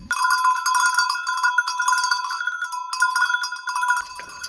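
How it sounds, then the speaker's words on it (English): A doorbell at the front door of a house under renovation rings with a bright, close chime that repeats steadily for about four seconds before cutting off. "And this is the doorbell."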